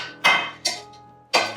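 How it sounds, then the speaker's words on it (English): Chopped heritage carrots, parsnips, swede, celery and onion scraped into a pot, giving three sharp knocks and clinks of utensil against metal, close and fairly loud, with no talking. "scrape that all in, put that in there"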